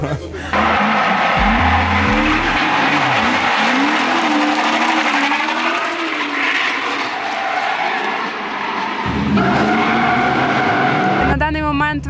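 A drift car at full throttle at the Bitlook Pro-Am Drift 2025 event in Lviv, its engine roaring loud and close with sweeping rises in pitch, tyres hissing and squealing, steady and sustained throughout.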